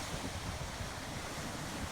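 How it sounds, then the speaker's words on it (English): Ocean surf washing onto a beach, a steady broadband roar of breaking waves with wind noise across the microphone, continuous and fairly soft throughout. "Waves rise and fall."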